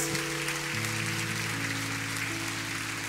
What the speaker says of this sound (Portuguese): Vamos aplaudir ao Senhor, irmãos.